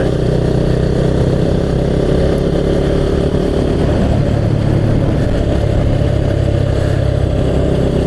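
A motorcycle engine runs steadily throughout while being ridden, a loud continuous low drone with rough mid-range texture and no pauses.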